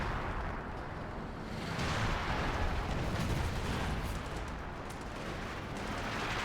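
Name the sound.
artillery barrage explosions in a video game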